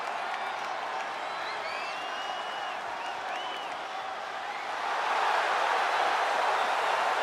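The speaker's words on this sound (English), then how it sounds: "The crowd is on its feet." A wrestling arena crowd in the 2K26 game roars and applauds, a dense distant wash of cheers with scattered whistles that swells louder toward the end.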